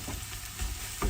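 Cabbage pancake batter sizzles in a pan over medium heat, a steady close frying hiss with a couple of brief louder crackles near the end.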